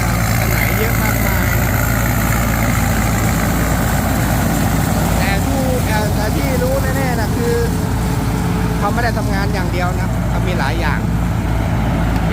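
A rotary tiller tractor churning a rice field, its engine running loud and steady throughout with a heavy, constant rumble; faint voices are audible beneath it.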